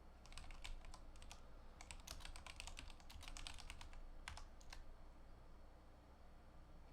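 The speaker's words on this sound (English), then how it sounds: "we can type in the following command" Keys on a computer keyboard are tapped in quick clusters and short bursts to enter a command, faint and close against a quiet background hum, with no talking.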